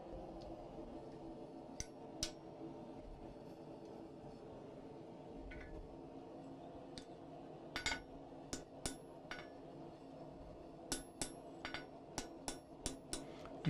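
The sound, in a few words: hammer dressing flare of staple on half round swage and mandrel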